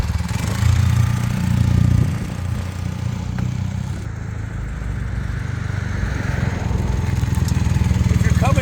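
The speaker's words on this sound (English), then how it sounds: "Let's do a drive-by and show the highway speed." A restored, low-mileage Honda CM400A Hondamatic motorcycle runs at highway speed, producing a loud, steady engine roar mixed with wind rush that holds fairly even throughout.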